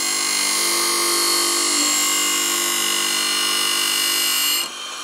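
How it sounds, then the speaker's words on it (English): Hatchet blade pressed against a spinning grinding wheel, a steady, loud, high-pitched tonal whine held continuously up close, dropping slightly in level as contact eases near the end; no voices. "As I sharpen this, it turns black, and the black is metal from the blade."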